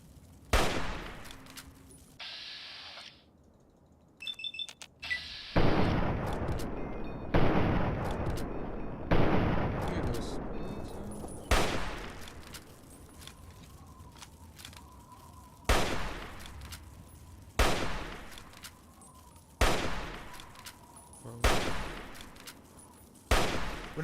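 Heavy gunfire in a video game: loud booming shots in spaced bursts with long echoing tails, several rapid clusters early on, then regular single blasts repeating every couple of seconds.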